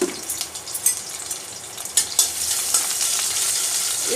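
Garlic fries in 3 to 4 tablespoons of hot oil in a kadai, a continuous bright sizzle close by with a few scraping stirs, and no talking.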